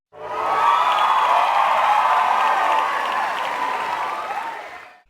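Cheering crowd with applause and children's shouts rises quickly and holds steady for about four seconds before cutting off, a canned cheer effect triggered when a Scratch countdown timer reaches zero.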